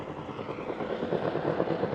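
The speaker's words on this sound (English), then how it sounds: "Helicopter coming to land" A helicopter coming in to land near a luxury yacht, its steady rotor thrum and engine drone fairly close and constant, filling the whole stretch with no voices.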